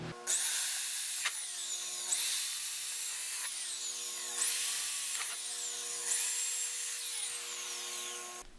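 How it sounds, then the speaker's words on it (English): A power drill whines through stainless steel in repeated bursts, drilling holes in a motorcycle tail tidy bracket, pitch rising and falling with each push, close and steady for several seconds. "I'm just going to drill it out now."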